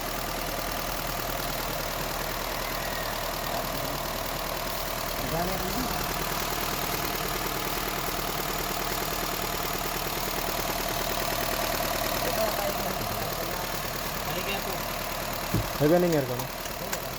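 A 2015 Honda City with a 1.5L engine and manual transmission idling with the hood open, a steady even hum with a faint ticking pulse, while someone talks nearby.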